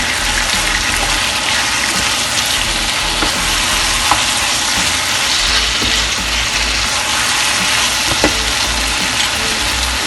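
Slit green chilies hit hot masala gosht in the pot, a loud, dense, continuous sizzle with a low rumbling undertone and occasional small pops, no voice present.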